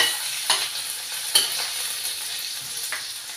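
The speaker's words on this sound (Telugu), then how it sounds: "వెల్లుల్లి రెబ్బలు ఒక 3, ఒక స్పూన్ జీలకర్ర కొంచెం వేయించుకోవాలి." Garlic cloves and a spoon of cumin fry in a pan for a tomato coriander chutney, giving a soft steady sizzle with a few brief stirring clinks, close and alone.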